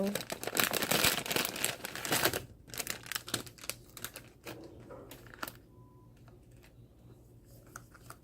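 Plastic and paper packaging of a gift parcel being torn and crinkled open indoors, loud rustling at first, then scattered softer crackles and handling noises.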